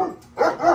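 A dog gives a short, close bark or yip, brief and fairly loud, at a family home in Texas.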